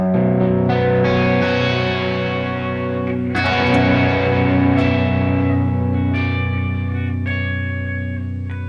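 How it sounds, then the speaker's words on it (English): Clean electric guitar chords ring out through a stereo delay, with echoes trailing differently left and right, giving a full, spacey tone; sustained notes overlap with fresh strums, loud and alone. "It gives a different time for the echo on the right from the left"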